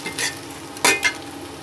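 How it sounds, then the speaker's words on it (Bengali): An egg is whisked in a bowl for a vegetable egg dish. A few quick scraping taps sound up close, with short bright strokes against a quiet background. "এখন আমি একটা ডিম ভালোভাবে ফেটে নিচ্ছি।"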